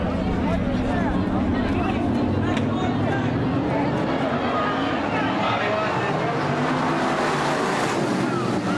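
Race cars roar around the Fonda Speedway track during a ten-car heat, a dense continuous engine drone that swells and fades, with an announcer talking over the noise.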